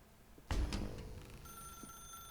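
A telephone rings in The Stanley Parable, a loud bell-like burst starting about half a second in and then trailing into a sustained electronic ringing tone, with no talking.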